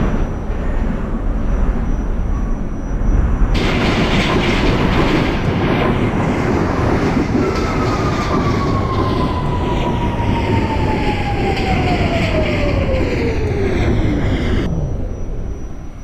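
A New York City subway train in the OpenBVE simulator rumbles and clatters loudly along the track. A long descending squeal rises over the roar, and nobody speaks.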